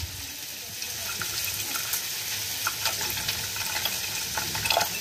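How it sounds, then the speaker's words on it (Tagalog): Water pours steadily into a pot of dal lentil soup cooking with turmeric and tomato, a continuous splashing and bubbling wash with no voices. "lagyan na natin ng tubig."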